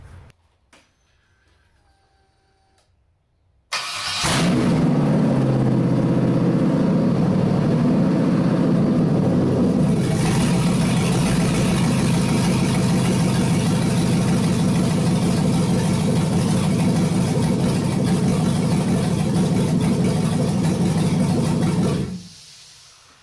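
An LS V8 on an engine stand cranks briefly after a few quiet clicks, catches and runs loud with a rough, steady idle, then shuts off near the end.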